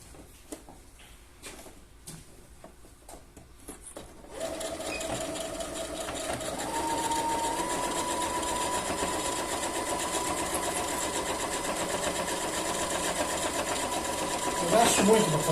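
A sewing machine stitches pieces of patchwork fabric, its steady running hum starting after a few quiet seconds and continuing close by at an even pace.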